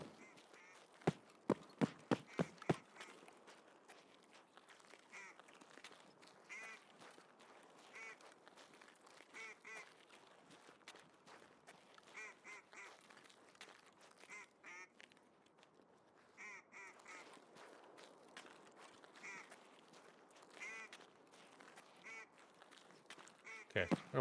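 Ducks honk and quack in a noisy flock in the shooter Escape From Tarkov, a dense chattering of overlapping calls that runs throughout, louder bursts near the start and end, with faint talk mixed in.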